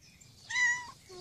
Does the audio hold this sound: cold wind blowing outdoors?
no